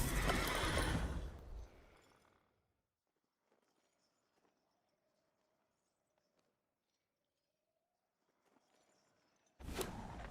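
A horse whinnies, the neigh rising and falling, for the Snake Horse card being played in MTG Arena, followed by a near-quiet stretch of faint game tones before a sharp burst of noise at the end.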